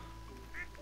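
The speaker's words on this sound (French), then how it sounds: "Edric il a appelé tous ses canards Dracal." A single short, quiet duck quack comes from the video game Stardew Valley, set low under a faint background hum.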